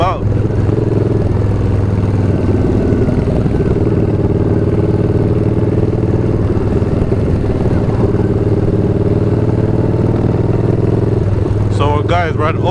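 A Harley-Davidson Low Rider S motorcycle cruises along with a loud, continuous engine rumble and road noise heard up close, and a voice speaks over it.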